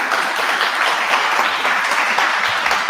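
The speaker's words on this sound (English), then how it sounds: "Can we get one more round of applause, please?" Sustained applause from a live-event audience at a music and spoken-word jam, steady and dense throughout without a break.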